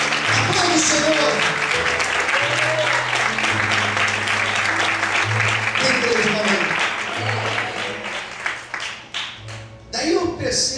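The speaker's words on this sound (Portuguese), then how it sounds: "Aplaude o Senhor." A church congregation claps for the Lord in a sustained, loud burst of applause over a low held tone, thinning out toward the end as a few scattered claps and sounds remain.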